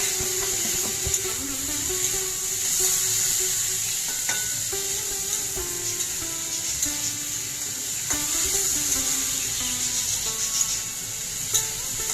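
Potatoes frying in a pan with cumin for a vegetarian home-cooked dish, a continuous close sizzle under repeated scraping stirs of a spatula, with no one speaking.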